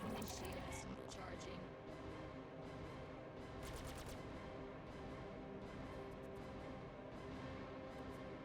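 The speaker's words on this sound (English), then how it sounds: "It only takes 1 or 2 hits from these M5A laser cannons to take out military spec ships" Rapid bursts of M5A laser cannon fire from a ship in the space game Star Citizen, a dense, continuous barrage of repeated shots over steady engine and battle noise with no talk.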